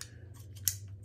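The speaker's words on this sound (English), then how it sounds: "These are the kitchen scissors." Heavy all-metal stainless steel kitchen scissors give a single sharp snip near the middle, close and fairly quiet, with faint clicks of the blades and a low hum underneath.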